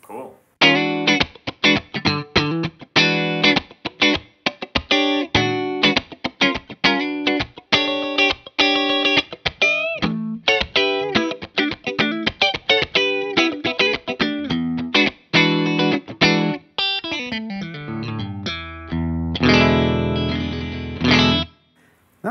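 An electric guitar played through an Axe integrator amp simulator gives a fast, loud run of picked notes and chords, close and bright, building to a sustained strummed chord at the end.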